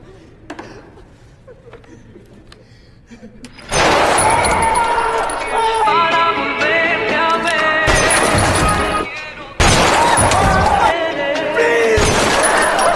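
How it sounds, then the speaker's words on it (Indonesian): Loud bursts of gunfire from a shooting inside an office building crash in after a quiet start, dense and sustained with sharp cracks and ringing, over a busy, noisy background. "Di sisi Denny, dia pun mendengar suara tembakan."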